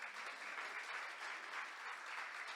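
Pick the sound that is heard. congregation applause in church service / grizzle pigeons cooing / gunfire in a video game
congregation applause in church service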